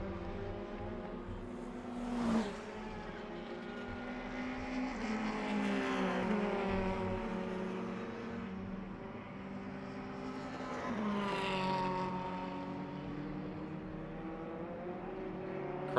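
Race cars at Jarama circuit during the Jarama Classic event: engines swell and recede as cars pass, a few distinct pass-bys with rising and falling pitch, heard from trackside at moderate distance.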